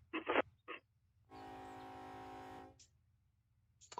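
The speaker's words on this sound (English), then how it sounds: "But you can hear that horn." A locomotive horn blows one steady, sustained blast of about a second and a half, moderately loud in an otherwise quiet rail scene, with brief faint noises before and after.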